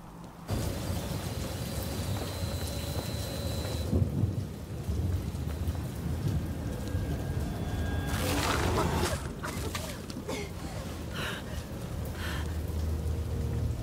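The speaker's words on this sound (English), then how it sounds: "Oh, thank God it's raining." Heavy rain pours in the animated show Murder Drones, with a rolling thunder crack midway over a constant hiss; viewers speak quietly in the background.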